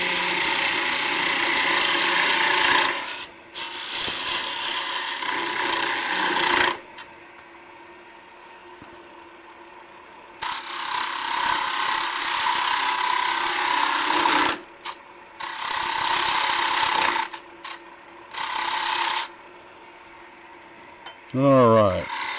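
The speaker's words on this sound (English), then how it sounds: "Do a little peeling cut here." A woodturning lathe makes peeling cuts on a wooden scoop: the gouge hisses and rasps in long sustained passes of a few seconds each, separated by quieter pauses while the lathe spins.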